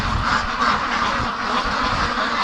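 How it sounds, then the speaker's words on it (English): Ducks quack loudly and almost continuously over nasty rainy weather with cloudbursts, several birds calling close by in overlapping bursts. No one speaks. "I'm going to let the ducks out"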